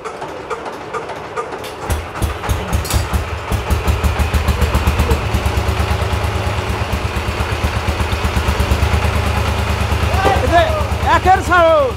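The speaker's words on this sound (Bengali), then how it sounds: "আচ্ছা আমরা এখন এই জেনারেটরটা স্টার্ট দিয়ে আপনাদেরকে দেখাবো।" A 5 kW Builders generator engine starts after a couple of seconds and settles into a loud, steady, rapid chugging run, close by, with voices talking over it.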